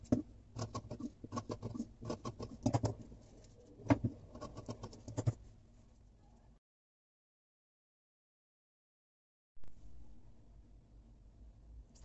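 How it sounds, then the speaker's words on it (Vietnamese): Scissors cutting a paper sleeve pattern for a pleated sleeve design, a quick run of close, crisp snips and rustles, then silence before faint handling of the paper resumes. "Sau đó thì các bạn sẽ mang cắt ra cho mình."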